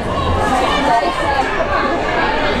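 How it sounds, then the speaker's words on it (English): Crowd of spectators at a U15 girls' premier youth soccer match swelling in noise after the first goal, a steady mass of overlapping chatter and cheering voices, fairly close and continuous throughout. "Crowd getting louder now following that first goal of the game."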